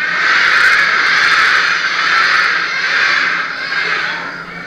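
A voice imitating a crow's caw, a loud, sustained nasal cry held for several seconds with slight wavering, alone and close.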